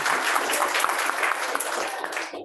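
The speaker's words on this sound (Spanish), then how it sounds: "capaz que le podemos hacer un aplauso" A short burst of audience applause follows a biology talk, a brisk, fairly close wash of clapping that cuts off abruptly near the end.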